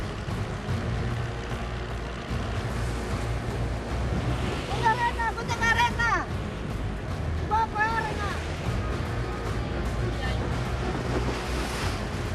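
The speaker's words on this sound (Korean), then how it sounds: "갑자기 파도가 심해집니다." Rough, building sea waves slap around a small fishing boat at sea in Southeast Asia, with a steady loud wash of surf and wind buffeting the microphone; a few brief high tonal whines stand out over the roar.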